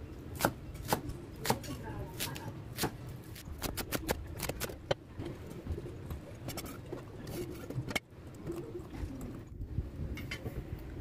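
Water spinach stems are chopped into small pieces on a board, quick irregular knife taps in bursts, close and fairly quiet with a pause near the middle.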